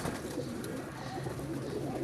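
Soft, continuous cooing from a pielakha flying pigeon, fairly faint and steady throughout, heard alone without talk.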